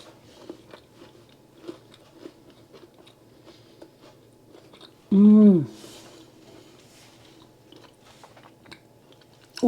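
Someone bites into and chews a spiced air-fryer rock cake close up, giving soft crunchy bites and small mouth sounds in a quiet room, with one short voiced exclamation midway.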